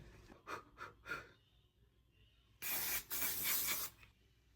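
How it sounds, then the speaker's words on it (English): Three quick soft breaths or puffs, then two loud hissing sprays of makeup setting spray in a row, close to the listener. "I've never actually used this setting spray."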